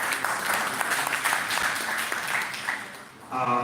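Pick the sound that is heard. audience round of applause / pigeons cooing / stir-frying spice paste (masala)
audience round of applause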